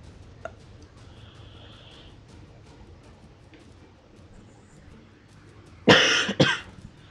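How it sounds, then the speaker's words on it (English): A man's throat clearing, heard as two short, loud, rough bursts close by near the end, after a quiet stretch with faint small ticks. "Just to clear my throat."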